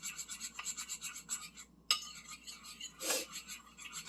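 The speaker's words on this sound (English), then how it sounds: "And we stir." A spoon stirring a thick coffee and cocoa face mask paste in a small bowl, soft repeated scraping and rubbing strokes with a brief clink, close and fairly quiet.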